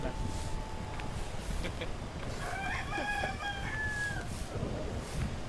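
A rooster crows inside the video game Peak, its rising harmonic call standing out in the middle of the clip over steady background game noise, with people talking around it.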